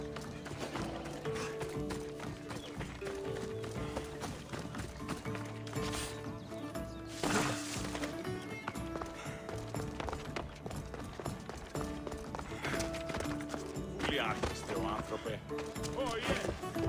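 Horses in a race through a theater toward the Dromos in Assassin's Creed Odyssey, hooves clip-clopping at a run under game music and voices, with a whinny and a crash breaking through.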